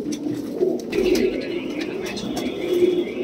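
Punjabi pigeons cooing in soft, repeated low murmurs, several overlapping calls close by, steady and continuous throughout.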